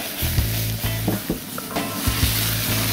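Oil-soaked fresh artichokes sizzle loudly on an outdoor grill, a steady close crackle with brief pops and clatters as they are moved around, no voices present.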